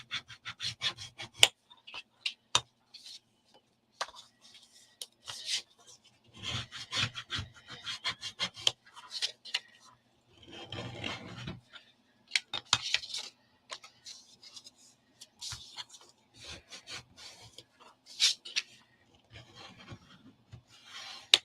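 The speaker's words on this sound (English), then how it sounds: "So give it a right good rub with your boner." A bone folder rubbed firmly along a scored paper fold, producing repeated dry scraping and rubbing strokes in irregular bursts with short pauses between them, close and fairly quiet.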